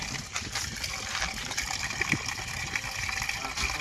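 Diesel gushes out as thin as water in a steady, continuous, close-up rushing flow.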